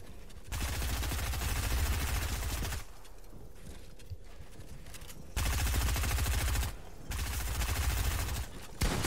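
Loud, sustained automatic gunfire from a video game duel, rapid bursts of rattling shots separated by brief pauses, close and dominant with no talking.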